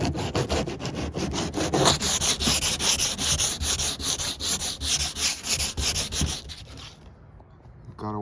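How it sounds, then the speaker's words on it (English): Hand sanding a fiberglass panel on a 2004 Mustang GT with 120 grit sandpaper produces a close, rhythmic rasping scrape, stroke after stroke in quick back-and-forth pulses, before stopping near the end. "Right now I'm using 120 grit, just sanding it down."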